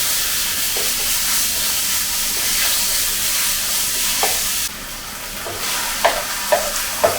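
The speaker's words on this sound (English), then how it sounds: "Stir fry it over medium heat." Minced pork sizzles steadily in a little oil in a pan over medium heat, a close, continuous hiss. Near the end a few sharp spatula clicks and scrapes break through as the meat is stirred.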